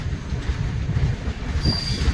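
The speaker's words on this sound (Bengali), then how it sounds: "2 মিনিট দাঁড়ানোর পর মৌরানীপুর স্টেশন থেকেও ট্রেন ছেড়ে দিয়েছে।" Train pulling out of Mauranipur station on a Howrah–Agra journey: steady rumbling rolling noise with a faint high wheel squeal near the end, heard from on board.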